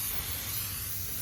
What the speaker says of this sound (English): We're going to load her up with some clear coat